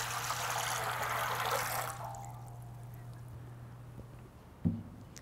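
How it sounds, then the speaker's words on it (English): Water is poured into a baptismal font in a church sanctuary: a bright, splashing pour for about two seconds, then quiet with a low hum and a single drip near the end. "When we baptize people now, we take water and we pour it into the baptismal font."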